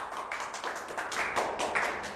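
Audience clapping for a Double White Tomato skincare product at a presentation: a steady patter of many hands applauding together at moderate loudness, continuous throughout with no talking over it.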